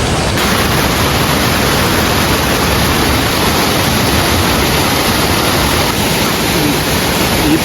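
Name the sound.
large waterfall on a river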